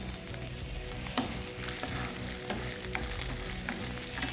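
Dried red and green chilies fry in hot oil in a pan for gongura pulihora, giving a steady close sizzle with occasional stirring scrapes and small pops throughout, with no talking.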